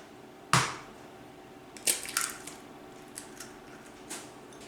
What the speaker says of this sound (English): First, I'm gonna break the egg.